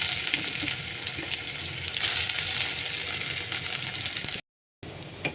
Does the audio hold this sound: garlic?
yes